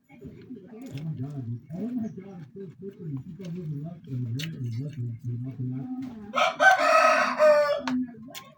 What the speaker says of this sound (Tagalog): yung aking chicken na alaga